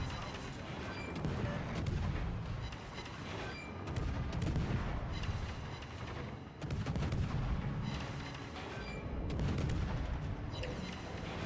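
Naval guns fire in a warship video game, heavy booming salvos arriving in repeated waves of rumbling, crackling blasts that overlap continuously across the stretch with no pauses.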